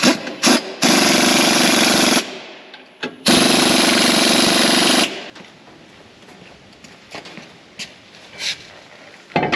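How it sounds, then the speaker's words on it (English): An impact wrench fitted with a chrome socket, used on a farm while a combine is serviced before harvest, rattles loudly in two long, close bursts of about two seconds each, separated by a pause and followed by quieter shop noise. "So you're not supposed to use a chrome socket on an impact unless you have fake safety glasses."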